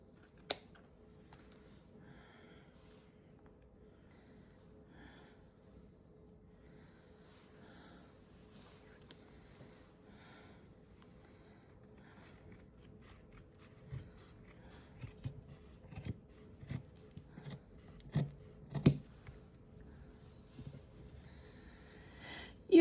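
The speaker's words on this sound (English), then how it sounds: "And then I'm gonna cut this in half." Scissors cut a piece of felt in half, heard as a quiet run of crisp snips that grow louder and quicken toward the end, close up after a near-silent stretch.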